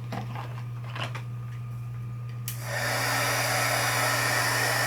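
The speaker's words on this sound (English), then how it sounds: "And then I'll take my heat gun." A heat gun starts and blows steadily at close range over a leather belt being stamped with buckles, a constant whooshing roar over a low electrical hum.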